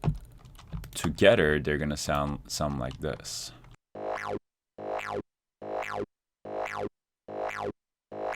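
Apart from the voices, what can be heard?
Serum synth grid sounds sweeping up and down together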